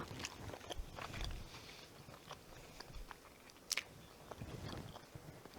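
Someone bites and chews a crispy Reuben egg roll made with wonton wrappers, giving soft, close crunching and mouth sounds at low volume with a few sharper crackles; no speech.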